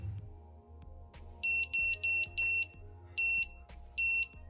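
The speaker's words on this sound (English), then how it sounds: "I got the smoke stopper all hooked up, and I got a buzzer on here" Buzzer fitted to a drone's smoke stopper sounds in shrill, piercing beeps, about six short pulses in an uneven pattern, over a low background hum and a few soft clicks.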